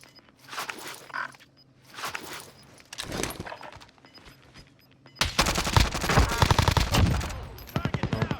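Gunfire in the Warzone video game: scattered single shots and footsteps at first, then a loud, sustained burst of rapid automatic fire close by, with players talking over it.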